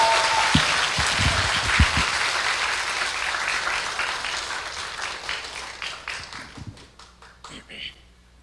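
Audience applause at a tenor's testimony concert in a church in Daejeon, loud dense clapping that fills the space and then thins out and fades over several seconds, with scattered claps at the end.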